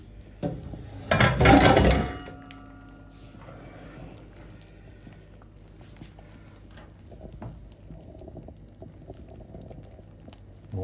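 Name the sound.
stirring flour into boiling butter in a pot for choux pastry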